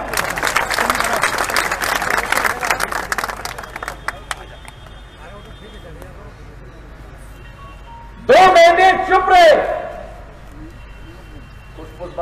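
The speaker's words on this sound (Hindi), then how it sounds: "अरे ये धार की तालियां थोड़ी है। चलिए बजाओ।" Election rally crowd at a public meeting in Dhar clapping: a roughly four-second wash of applause at the start under a man's amplified speech, fading into scattered claps, followed by a loud shouted burst.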